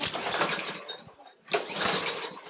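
Pull cord yanked on a Briggs and Stratton 450E lawnmower engine, two long rasping pulls separated by a brief pause, close and fairly loud, with the engine not catching.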